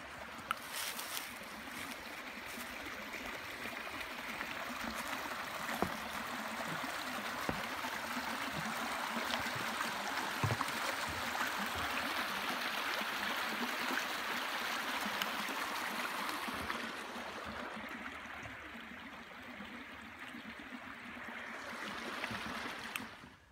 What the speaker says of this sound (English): Here's the stream that waterfall falls into.